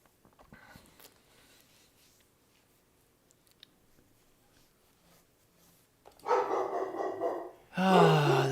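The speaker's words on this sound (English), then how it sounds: "Ah, this dog." A dog barks and yaps loudly in a couple of close bursts near the end, after a stretch of quiet room noise and soft movement.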